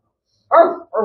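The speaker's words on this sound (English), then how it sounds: "She doesn't bark. Make her sound like a dog." Two short dog barks, the first longer and louder, the second clipped, close by with silence before them.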